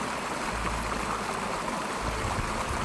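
Steady babbling of a shallow Carpathian mountain stream, water rushing and gurgling continuously over a stony bed, close by with no voices.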